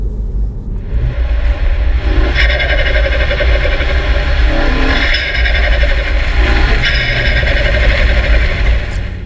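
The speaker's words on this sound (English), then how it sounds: "In terms of the intake, the noise is vastly increased. You can hear the turbo spooling harder" A steady, loud engine of a F56 Mini Cooper S fitted with an Eventuri intake drones throughout with a rising whistle of turbo spool and rushing intake noise, no voices.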